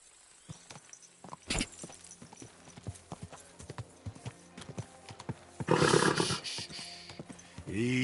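A horse's hooves clip-clop steadily and close in the video game Kingdom Come: Deliverance II, with a loud snort or whinny near the end.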